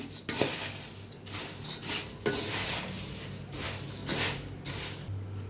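A spoon stirring and mixing a Diwali chuda snack mixture in a metal pot, with repeated close scraping strokes and clattering metal contacts in uneven bursts.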